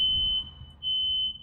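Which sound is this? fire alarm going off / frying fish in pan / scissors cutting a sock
fire alarm going off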